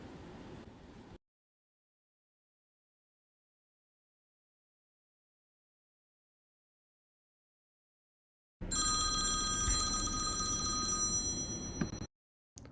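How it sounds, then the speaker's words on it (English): After a long silence, a phone ringtone plays with bright repeating electronic tones for a few seconds, then cuts off abruptly. "your ringtone will ring"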